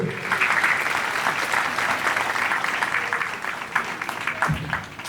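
A church congregation at a New Year service applauds to bid farewell to the year; sustained, fairly loud clapping from many people, filling the room and tapering slightly near the end.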